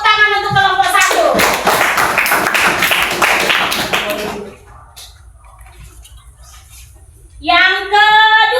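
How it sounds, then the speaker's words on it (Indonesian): A class claps for a student group after its presentation in an elementary classroom religion lesson: a burst of dense clapping lasting about three seconds, with a teacher's voice talking before and after. "Oke, tepuk tangan untuk kelompok 1."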